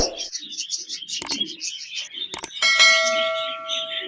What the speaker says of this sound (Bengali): এক জোড়া বাজরিকার পাখি রয়েছে লুটিনো রেড আই বাজরিকার পাখি এখানে